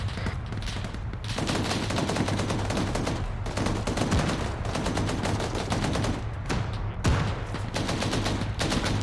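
Gunfire in a military video game battle, dense rapid bursts of automatic fire crackling almost continuously, with brief pauses between volleys, loud and close.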